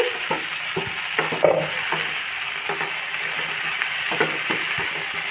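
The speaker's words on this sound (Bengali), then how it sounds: "একটু নাড়াচাড়া করে উল্টে নিলাম।" Vegetables frying in milk-based gravy sizzle steadily in a pan while a spatula stirs and turns them with intermittent scraping knocks, close and clear with no talk.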